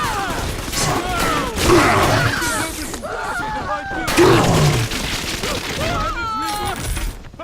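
Bursts of enemy gunfire crackle through a BioShock game scene, rapid clattering shots layered under shouting voices and busy combat noise.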